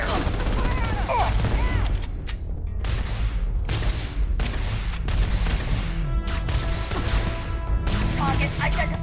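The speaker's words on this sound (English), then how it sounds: "I'm under heavy fire!" Sustained gunfire in the video game Starfield, dense bursts of shots with loud impacts and brief gaps, mixed with game voices shouting over the fight.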